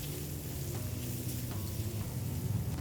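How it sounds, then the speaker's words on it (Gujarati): Jain idli chilli being stirred in a pan after pepper, salt and dry ginger powder go in: a steady low sizzle with soft scraping and a couple of faint clinks, close and continuous with no talking. "હવે પાછું એકવાર હલાવી લેશું."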